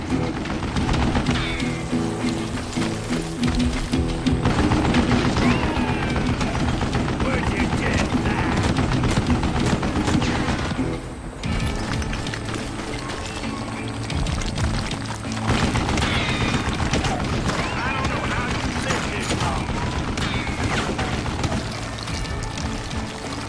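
A mounted gun fires in Call of Juarez Gunslinger, a fast, sustained rattle of shots with a brief lull partway through, loud and close throughout.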